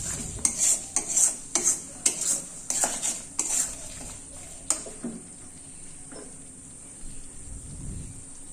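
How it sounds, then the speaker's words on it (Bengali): A utensil stirring raisins into katla fish kalia in a pan, with a rhythmic run of scraping clinks and taps against the metal, then quieter, softer movement over a faint sizzle. "একটু নেড়ে নিলাম।"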